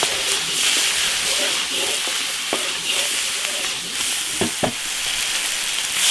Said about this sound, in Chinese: 调料下锅